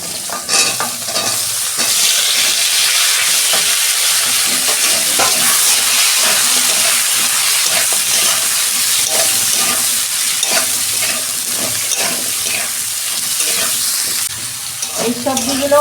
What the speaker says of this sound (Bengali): ওই কড়াতেই তেল দিচ্ছি, আমি এই সবজিগুলো ভেজে নেব।